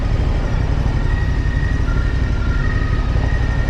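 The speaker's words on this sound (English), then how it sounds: "And here comes the ambulance." An ambulance siren wails faintly in the distance over loud, rumbling downtown traffic in Luxembourg, its tone holding steady and shifting slightly in pitch.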